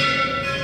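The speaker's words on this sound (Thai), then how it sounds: "นี่ครับเสียงคล้องระฆัง" A short, sustained temple bell tone at Wat Tha Mai, Thailand, with bright ringing overtones, fairly faint and heard alone.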